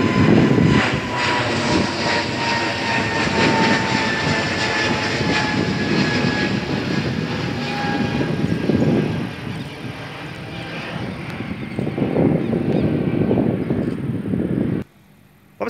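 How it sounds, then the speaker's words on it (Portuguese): Azul airliner aborting its landing approach and going around, with a loud, sustained jet engine roar that holds steady for about fifteen seconds before cutting off abruptly. "o piloto resolveu arremeter o pouso"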